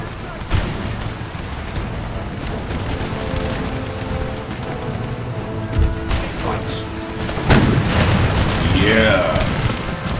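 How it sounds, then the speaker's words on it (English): Cannon fire in a battle in the Empire: Total War video game with the Ottoman Empire, dull booms rolling under continuous battle noise and someone talking over it, with a louder burst near the end. "let's start firing on these guys with cannons"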